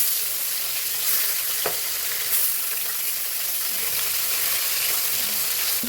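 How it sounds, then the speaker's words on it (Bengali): Tilapia pieces rubbed with salt and turmeric fry in oil in a Bengali home kitchen, giving a loud, close, unbroken sizzle with a few faint pops. "মাছ ভাজা হচ্ছে"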